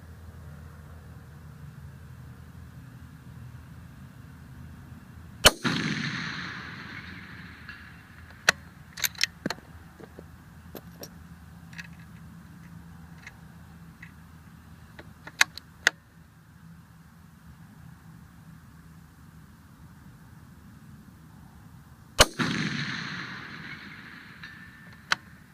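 Two loud, sharp rifle gunshots fired during a scope test, each a single crack followed by a decaying rumble, about sixteen seconds apart, with quieter clicks and handling noises between them.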